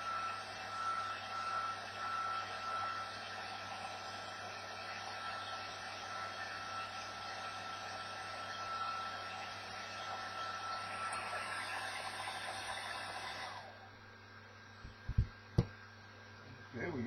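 A heat gun blows a steady, loud broadband roar while heating a vinyl decal on a compound curve, running continuously before cutting off, followed by a couple of sharp knocks in the quieter room.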